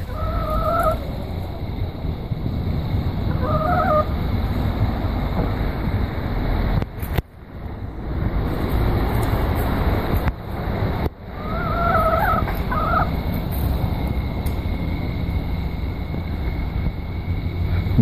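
Chickens in a shed give short, repeated clucks and squawks in a few bursts after catching a mouse, against steady wind and background noise, with no talking.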